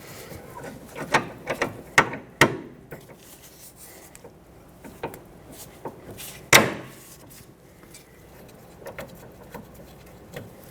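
Wrench work reconnecting a rear sway bar link on a 2006-2010 Hyundai Sonata, with scattered metallic clicks, ratcheting and sharp taps at irregular intervals over a quiet background.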